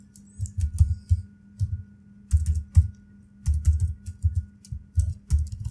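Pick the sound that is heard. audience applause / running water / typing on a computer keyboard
typing on a computer keyboard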